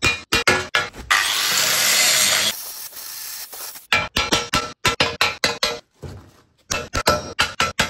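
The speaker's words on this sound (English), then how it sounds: "so I'm just going to give that a bash with a hammer" A hammer strikes a metal bracket with sharp, loud metallic impacts in quick bursts, several strikes in a row, broken by a stretch of grinding scrape, then more rapid banging.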